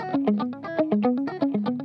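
Stratocaster electric guitar picked softly with palm muting, giving a string of short, damped notes in a stepping melodic pattern, each pluck clipped and quiet, played alone with no talking.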